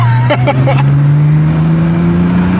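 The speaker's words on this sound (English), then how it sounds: "Sport plus engine kicks in." An Acura NSX engine in sport plus mode hums loudly and steadily, its tone gradually rising as the car accelerates, with a brief voice at the start.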